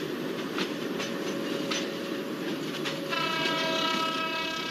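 A twin WDM 3A diesel locomotive in a train simulator at Kochuveli station, sending out a steady engine rumble with periodic clanks, then a sustained horn blast sounding near the end, with no voices.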